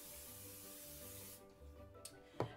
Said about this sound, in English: Shake it to get it all, whatever it does when you shake it, and spray your pan.